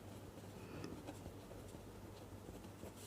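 Faint, steady scratching of a pen on paper runs through a quiet room as math is written out, with short strokes and light taps and no voice.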